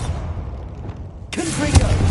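A Bombarda spell blast in Hogwarts Legacy lands as a single sudden boom partway through, preceded by a low, muffled rumble, and a voice is present.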